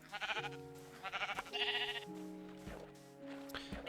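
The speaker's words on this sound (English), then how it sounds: "that's a lot of sheep. What is with all the sheep here?" Repeated sheep bleats from a flock in Minecraft Alpha 1.0.4, several overlapping game-animal calls in quick succession over a steady background music tone.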